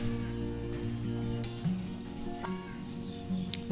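Brinjal slices for baingan bhaja fry in a covered pan over a medium-low flame, giving a soft, steady sizzle with occasional light stirring clicks, fairly quiet and without speech.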